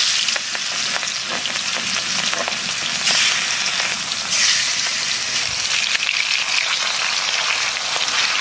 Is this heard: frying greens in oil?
yes